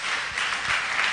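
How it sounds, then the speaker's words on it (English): An audience at a student summit applauds speakers taking the stage, a dense, even roar of many hands clapping together, loud and continuous. "Let's have a round of applause for them"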